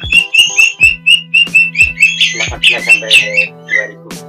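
A white-rumped shama calls loudly and close at a breeding farm, a rapid run of bright whistled notes and chirps, with a steady low hum underneath.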